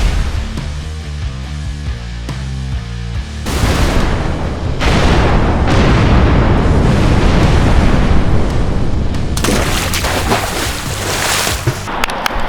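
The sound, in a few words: explosion of a globe prop on set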